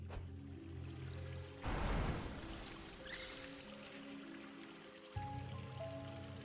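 In the video game Little Goody Two Shoes, a mix of blood and water is poured with a short burst of splashing and trickling, set between stretches of soft tonal background music.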